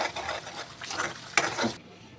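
Spicy chicken curry with turmeric frying in oil on a high flame while being stirred, a close, crackling sizzle broken by scraping stirs and a sharp knock, stopping abruptly near the end.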